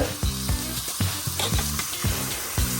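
Olive oil sizzles steadily with onions in a pan while a regular scraping rhythm repeats about every half second, like a utensil stirring.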